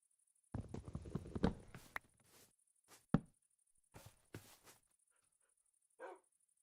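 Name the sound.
dogs in a video game (Minecraft)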